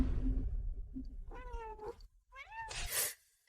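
A cat meows twice in a close, clear, plaintive call, followed by a breathy hiss-like burst, with low rumbling noise before the first meow.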